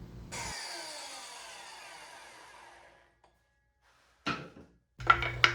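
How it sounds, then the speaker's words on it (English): A sliding compound miter saw cuts wood strips for a collapsible arch panel backdrop, giving one loud whining cut that spins down over about three seconds, then silence, a short thump and closer clunks of handling. "the tool I'm using to cut these out is called a sliding compound miter saw"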